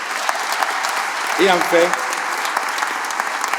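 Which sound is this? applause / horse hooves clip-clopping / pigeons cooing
applause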